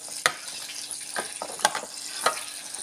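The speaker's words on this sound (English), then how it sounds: "Just give it a quick toss around, and mix around, stir around, whatever." Lamb dusted with curry powder sizzling in a pot while being stirred, a soft crackling fry broken by a few sharp scraping clatters of the utensil at irregular intervals.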